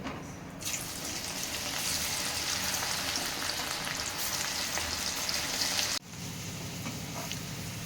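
Bitter gourd pieces fry in hot oil, a strong, even, rain-like sizzle that runs continuously, dips briefly near the end, then carries on with no talking.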